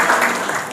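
An audience at a school mushaira applauds a professor as he is welcomed to the stage, a brief continuous wash of clapping heard throughout the fragment.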